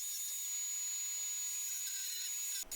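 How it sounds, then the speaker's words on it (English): A finger belt sander works over the curved inside of a catamaran hull during fairing, giving a steady, hissing whir that stays fairly faint and continuous before cutting off abruptly at the end. "And when I get tired, I try another tool. A finger belt sander."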